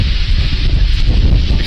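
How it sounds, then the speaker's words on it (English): Strong wind blasts across a hilltop in the Pentland Hills in February, a loud, constant low roar buffeting the microphone with no voices. "it's very windy up here"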